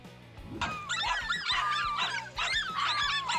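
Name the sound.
dogs barking and whimpering while fighting a lizard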